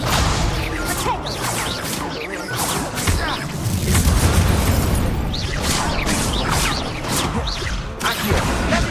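Spell blasts from the Confringo fire curse in Hogwarts Legacy, a run of loud whooshing cracks and crashing bursts that repeat in rapid succession across the whole stretch.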